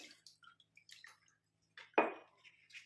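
Water poured over dyed hair trickles and drips quietly, with one brief splash partway through, close by and fairly faint.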